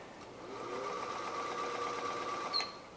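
A vintage Singer sewing machine runs at a steady pace, a quiet, even whir with a rapid mechanical chatter, followed by a short click near the end.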